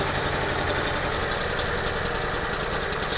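An Invacar engine idling steadily on reduced choke, a loud, continuous close-up drone with a fast even chugging pulse and no voices over it.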